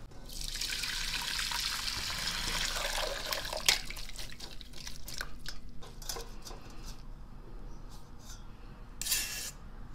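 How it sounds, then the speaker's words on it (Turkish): Boiled water pours from a pot onto quince pieces for jam, a loud splashing stream at first that thins to trickles and drips, with a few clinks near the end. "Şimdi bunu kaynattığım su ile buluşturacağım."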